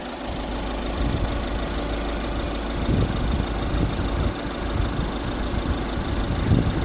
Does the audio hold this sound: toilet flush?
no